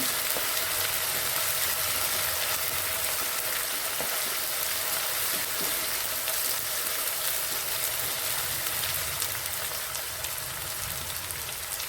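Ginger garlic paste sizzles steadily in a hot pan for masala egg curry, a continuous dense hiss like light rain with no talking.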